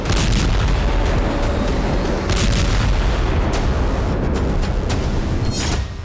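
Drone strike explosions hit Crimea near Sevastopol, a loud, continuous rumbling roar with several sharper booms and blasts layered through it and heavy low-end pressure throughout.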